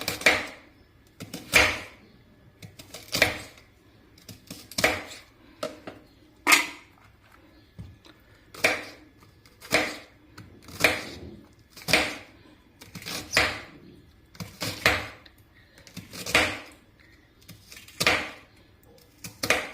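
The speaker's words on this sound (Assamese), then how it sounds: "কেৰেলাখিনি কেনেকৈ কাটিম চাই লওক" Knife chopping bitter gourd into long strips for chips on a cutting board, with about twenty sharp, evenly spaced chops in a steady rhythm, close and clear, no talking.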